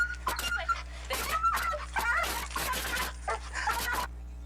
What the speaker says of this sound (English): the dog is completely freaking out on the catch pole, and that's why it's screaming its head off